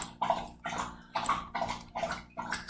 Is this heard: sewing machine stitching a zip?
no